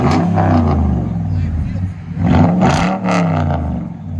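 A Toyota Tundra 5.7L V8 truck revs up and settles back, a rumbling exhaust roar close by, with voices talking over it.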